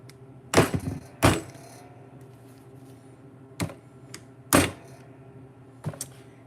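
A Fiskars Pro multi-tool gives a handful of sharp, close clicks at irregular intervals, each a crisp snap followed by a faint mechanical rattle, heard alone against quiet background.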